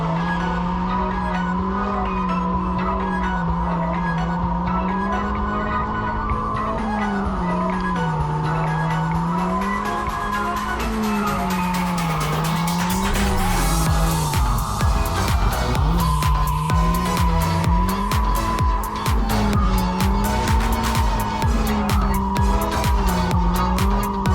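A turbo Mazda Miata drifting at a competition event, engine droning and shifting pitch while tires squeal and skid loudly, with the roar and screech building partway through and continuing close up to the end.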